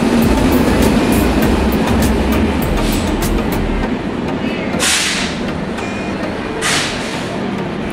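An AC passenger train rolls into a station, a loud continuous rumble and rattle of wagons with rhythmic clacks, later joined by two sharp hissing bursts, likely air brakes releasing.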